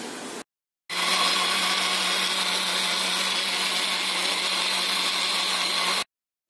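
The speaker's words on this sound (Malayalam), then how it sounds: "ചെറിയത് മിക്സിയിൽ കുറച്ച് വെള്ളമൊഴിച്ച് അരച്ച് എടുത്തു" A mixer grinder whirs loudly and steadily, grinding ingredients with a little water for achappam batter, a continuous close motor roar that starts abruptly, runs for about five seconds and cuts off.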